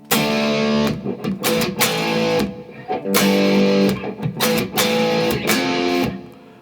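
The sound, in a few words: distorted electric guitar power chords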